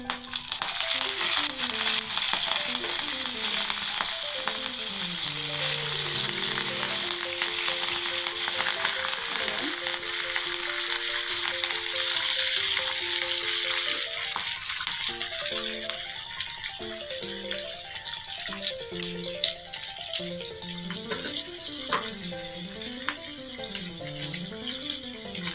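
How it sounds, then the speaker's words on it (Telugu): Curry leaves fry in hot oil in a pan, with tempering spices, for a ragi dosa, giving a loud, continuous close sizzle and crackle, with rattly stirring and an overlaid melodic tone, no talk. "ఇది కాస్త వేగనివ్వాలండి. వేగిపోయింది."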